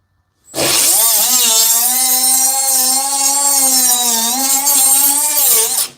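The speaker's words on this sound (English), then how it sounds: "Cuts through drywall pretty easy." A Milwaukee M12 2522 cordless cut-off tool spins up and cuts through drywall in one continuous, loud, whining buzz lasting several seconds before stopping abruptly.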